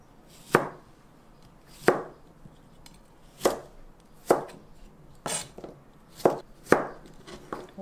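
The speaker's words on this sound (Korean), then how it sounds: "재료를 한번 썰어 볼게요" Knife chopping cucumber and other vegetables for a seasoned cucumber salad, about nine crisp distinct cuts on a board at uneven intervals, close and alone.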